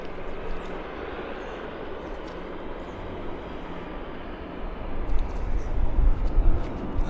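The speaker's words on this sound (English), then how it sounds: "we've got another aircraft coming in" A distant airliner arriving at Vancouver Airport makes a steady broad roar that swells louder toward the end.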